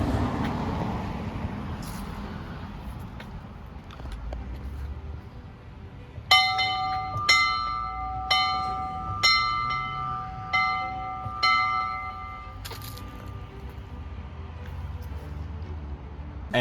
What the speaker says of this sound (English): there's also the big bell on top of the schoolhouse, which does in fact still work, and I got to ring